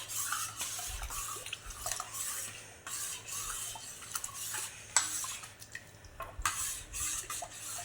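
A spoon stirs gond katira sharbat mixed with sugar syrup water in a vessel, giving quiet, irregular clinks and swirls with soft liquid sounds.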